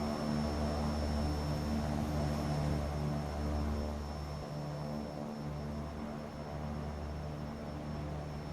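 Propeller engines of an Embraer 110 Bandeirante in a flight simulator game drone in cruise, a steady, fairly quiet hum with a constant high tone above it and no voices.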